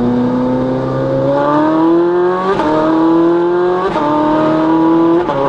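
A Ferrari 458 Italia with a full IPE exhaust roars loud and close through an open window, holding a steady droning note that swells in a few brief revving surges.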